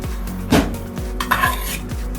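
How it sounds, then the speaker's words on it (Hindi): Cooked tomatoes are scooped from a pan into another pot, giving repeated metal spoon scrapes and clinks against cookware, with a faint sizzle continuing underneath. "इस टमाटर को मैं एक बर्तन में निकाल ले रहा हूँ"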